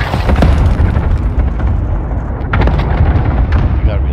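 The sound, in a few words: shotgun fire in a battle royale video game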